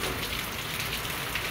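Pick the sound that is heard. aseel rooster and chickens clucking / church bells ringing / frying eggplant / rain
rain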